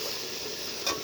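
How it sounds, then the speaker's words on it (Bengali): Washed, drained rice is stir-fried with ginger-garlic paste for pulao, giving a steady close hiss of sizzling oil with a brief scraping stir near the end. "এই যে সুন্দরভাবে একটু নাড়াচাড়া করে আমি ভেজে নেব।"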